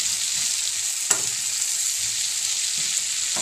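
Shredded cabbage with tofu, onion, garlic and ginger sautéing over high heat, a steady close sizzle broken by a few soft clicks of a utensil stirring the pan.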